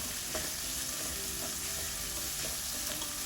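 Chopped carrots and beans with salt fry in a hot pan for egg fried rice, a continuous close sizzle with faint rhythmic stirring taps and scrapes throughout.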